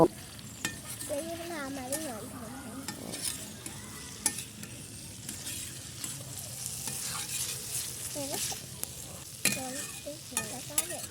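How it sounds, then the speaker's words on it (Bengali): Boiled soybean chunks are stirred into a frying pan, the spatula scraping repeatedly over a continuous sizzle, with a few high squeaks and clinks; a faint voice is briefly heard. "সয়াবিন তলায় দিয়ে দেব ভালো করে মিশিয়ে নেব"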